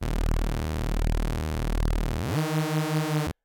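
A buzzy neuro bass synth tone sweeps upward, then holds a steady, harmonically rich note; the detuned layers beat against each other, giving a rapid pulsing wobble throughout.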